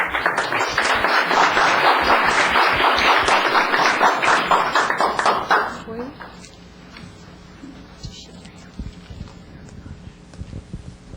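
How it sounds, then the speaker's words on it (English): Audience at a town council meeting breaks into loud, dense applause that lasts about six seconds and then fades to scattered claps and room murmur. "Applause, please."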